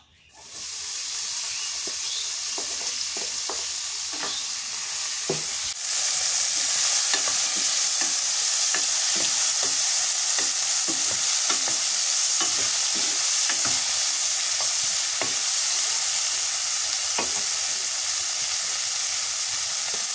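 Prawns fry in a little oil in a frying pan, a loud continuous sizzle that swells after a few seconds, with frequent spatula taps and scrapes ticking through the hiss.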